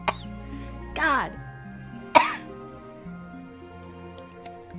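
Two sharp, close coughs, the first breaking into a throat-clearing rasp and the second a short hard bark, follow a brief vocal sound, with quiet faint ticking in between.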